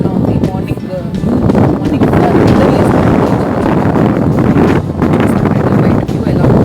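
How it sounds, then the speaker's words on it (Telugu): Strong, cold wind buffets a microphone outdoors, a rough, gusty roar that swells and dips continuously while a person talks over it. "ఫుల్ గాలి వస్తుంది ఈరోజు"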